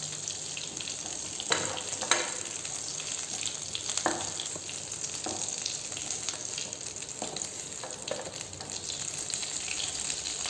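Continuous oil sizzling as brinjal fries, steady and close, with occasional soft clinks of a utensil stirring the pan.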